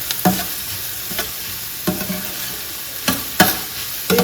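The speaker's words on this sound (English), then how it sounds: "Okay, now I'm just gonna give it a stir." Onion and green peppers sizzle loudly in a frying pan while being stirred, with four or five distinct scraping strokes of the utensil cutting through a steady, close frying hiss; no voices.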